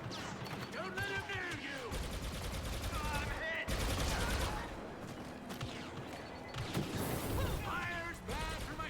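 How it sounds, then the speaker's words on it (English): Heavy blaster fire from Star Wars Battlefront II crackles in rapid, continuous bursts with sweeping laser zips and crashes, loud and close throughout a chaotic battle. "Yes, this is the heavy blaster."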